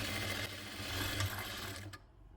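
Close sewing machine stitching the side seams of a baby frock, a steady whirring run that stops abruptly near the end.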